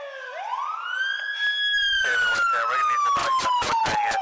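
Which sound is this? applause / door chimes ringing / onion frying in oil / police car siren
police car siren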